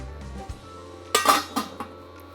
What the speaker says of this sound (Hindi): इसको लगाते हैं ढक्कन